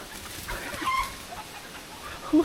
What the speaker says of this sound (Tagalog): nakakita ko ng manok